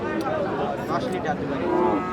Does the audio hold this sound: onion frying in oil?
no